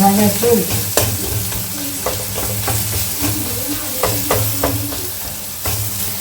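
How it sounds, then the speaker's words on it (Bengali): Pasta with capsicum, carrot and onion stir-fries in a hot pan, a constant loud sizzle broken by sharp scraping strokes of a spatula at irregular intervals, with no talking. "এটা পাস্তা ক্যাপসিকাম আর গাজর ভাজা আছে"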